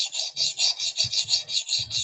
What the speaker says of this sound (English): You can definitely tell the difference in sound with the super coarse stone